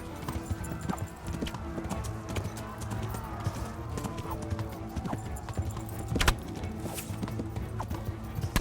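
Steady clip-clop of horse hooves trotting on a hard surface, with a brief whinny, in a busy soundscape from the video game Kingdom Come: Deliverance.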